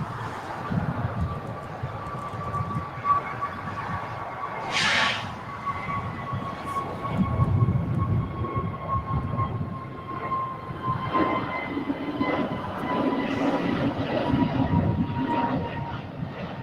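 An Alaska Airlines Airbus A321 jet passes at LAX, a rumbling engine roar with a thin whining tone that swells and fades, mixed with outdoor background noise.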